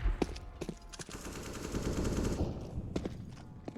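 FAMAS burst fire in Counter-Strike, quick clustered shots in short bursts mixed with other gunfire during a competitive match, fairly faint and distant, with no talk over it.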